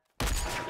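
Gunfire from a first-person multiplayer video game bursts in after a brief near-silence, a loud, dense volley of shots sustained to the end without talk.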